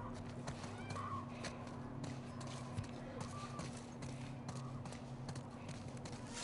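Hooves clop along at a steady walking pace in the video game The Last of Us Part I, faint and distant beneath a low background hum, with a few soft snorts.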